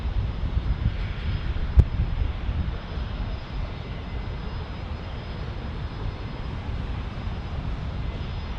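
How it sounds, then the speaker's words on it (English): A small Pilatus aircraft lands at San Diego airport in a crosswind off the bay, its engine a steady, distant low drone with one sharp click early on. "let's see how this tiny Pilatus plays the crosswind off the bay"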